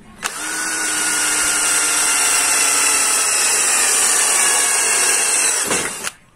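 A JLD 12 volt cordless battery drill runs steadily for about six seconds while boring holes, its loud whining motor holding an even pitch from start to finish, with no talk over it.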